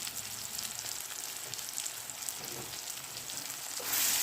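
Avalakki (flattened rice) breakfast sizzles and fries in a pan while being mixed, a soft continuous hiss with faint stirring scrapes, fairly quiet and close, with no voices.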